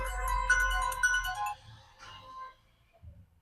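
A mobile phone ringtone for an incoming call, a bright electronic melody playing close for about a second and a half before cutting off, followed by faint shuffling and a brief voice.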